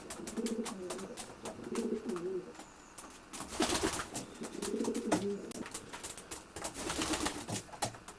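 Racing pigeons coo in repeated low, throaty bursts, close by inside a garage loft, with occasional rustling and scuffling in between.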